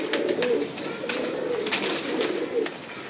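Pigeons kept in a home loft coo in a continuous, throaty rolling murmur, close and clear, with a few light rustles and no speech.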